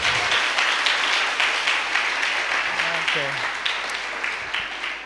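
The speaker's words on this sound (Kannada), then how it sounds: "Come on, give a good clap." An audience at a church meeting claps steadily for several seconds. The applause is loud and dense at first and fades gradually toward the end, with a voice speaking briefly over it.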